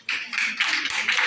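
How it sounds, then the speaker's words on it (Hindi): A classroom of students clapping together, a short burst of brisk, overlapping hand claps at close range, fairly loud, with no voices over it. "ताली बजाइए।"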